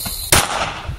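A firecracker explodes inside an empty tub: a single sharp, loud, close bang cuts through a steady background hiss and leaves a brief rattling decay.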